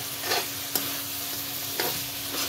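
Masala for duck curry sizzles steadily in hot oil while a spoon stirs it, with a few sharp scrapes against the pan over the frying.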